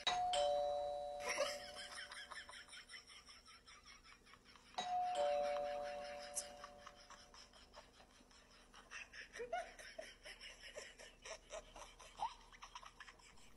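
A doorbell chimes twice, a few seconds apart, each clear ding-dong tone ringing out and fading, followed by rustling and faint chuckling voices nearby.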